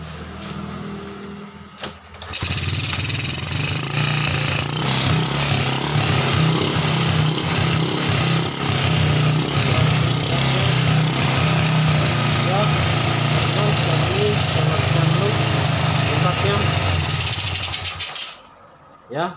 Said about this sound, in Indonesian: kita tes hidupkan mesinnya teman-teman ya